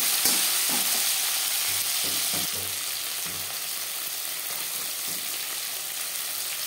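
Pieces of tomato hit hot oil that already holds bay leaf and whole spices, crackling and sizzling loudly and steadily, with a few low stirring knocks early on.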